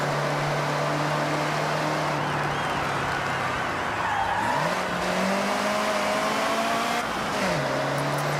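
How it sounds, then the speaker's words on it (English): A car's tyres screech under a steady engine drone in the racing game Forza Horizon 6, with sustained squeals that shift pitch as it slides through turns. "tire screeching behind us"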